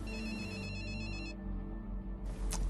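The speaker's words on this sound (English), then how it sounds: "He heard her phone ringing in her jacket pocket" A mobile phone rings from inside a jacket pocket, a muffled electronic ringtone over a dense background, fairly loud and continuous with no speech.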